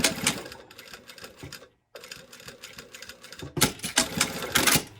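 A sewing machine stitches through thick coat fabric for a bound buttonhole, running in rapid bursts that stop briefly and then start again louder, with no talking.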